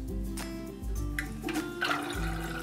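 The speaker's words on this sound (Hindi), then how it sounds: "ये पानी वाले खिलौने हैं इसलिए इनके साथ पानी में खेलते हैं" Toy race cars splash and bob through a water tank, with steady sloshing and trickling water over a sustained tonal background throughout.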